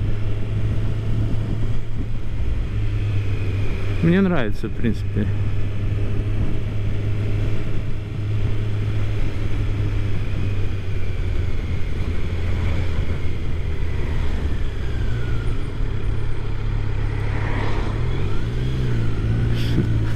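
A 2019 Kawasaki Z900 motorcycle engine drones steadily while riding, with a brief rise in revs early on, under constant wind buffeting the microphone as a rider speaks briefly.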